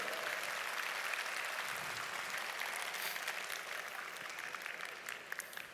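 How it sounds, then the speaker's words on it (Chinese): Audience at a corporate business talk for a Philippine company clapping steadily, a dense even round of applause that fades slightly toward the end, heard in a large hall with no talking. "需要给 VV 一个掌声"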